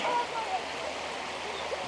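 Clear stream water flowing near a waterfall on a hike in Alberta, a soft continuous rush with faint gurgles, fairly quiet and brief.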